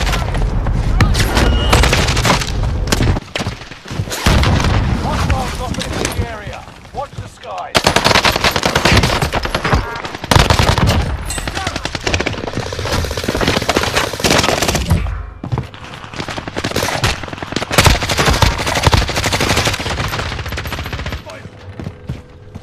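Rapid bursts of Blixen SMG fire in the video game Warzone crackle loud and close in repeated stuttering volleys, broken by brief pauses between sprays.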